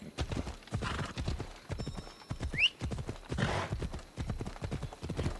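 Horse hooves clip-clop in a steady rhythm while riding in Assassin's Creed Odyssey, close and clear, with a brief whinny partway through and no talk over it.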